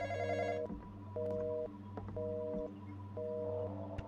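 Telephone ringing in the Roblox horror game The Intruder, a steady electronic ring repeating in four evenly spaced bursts over a low background hum, fairly quiet and with no talk over it.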